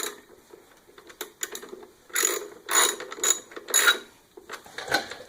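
Ratchet wrench tightening small 8mm bolts on the plastic cover of an air compressor, a series of close, quick clicking bursts repeating in short rhythmic runs with brief pauses between.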